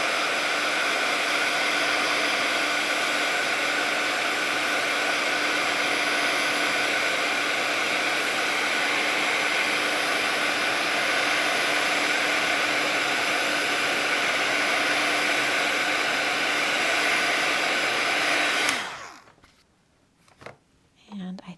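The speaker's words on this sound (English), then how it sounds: "I'm gonna use my heat tool on this to dry it." A heat tool blows a steady, loud, airy roar while drying watercolor paint, holding constant for nearly twenty seconds before cutting off abruptly, with faint handling noises after.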